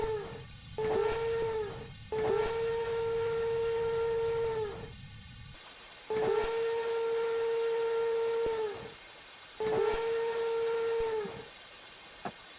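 A Rio Grande Southern steam locomotive whistle in Train Sim Classic sounds four times, a short blast then three longer ones, each a steady, mournful tone with pauses between.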